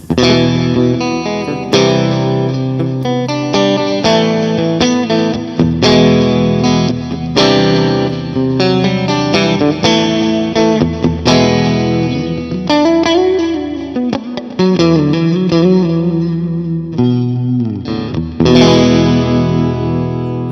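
Electric guitar played through a Vox AC30 amp plugin set to a metal tone, loud and heavily distorted, with chugging chords and sustained notes, a short bending passage midway, continuing alone throughout.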